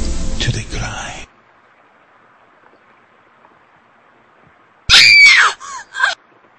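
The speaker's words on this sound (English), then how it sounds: "I just had to give them that scream at the end since they were looking for it" A loud, drawn-out scream played for a Halloween stream bursts out after a long silence, breaking into a second shorter wail, following a brief stretch of talk at the start.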